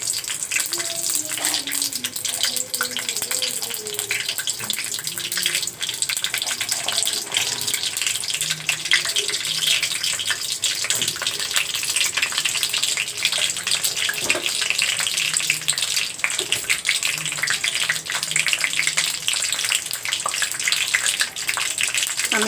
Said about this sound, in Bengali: আমি এখন তেজপাতা মশলাগুলো তেলে ভেজে নেব।